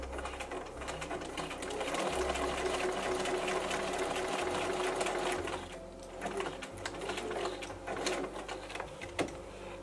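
A sewing machine stitches facing onto an 1860s-style corset, running in steady continuous bursts with brief pauses between runs, close and clear with no talking.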